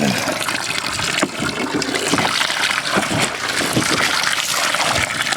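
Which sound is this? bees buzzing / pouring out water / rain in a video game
pouring out water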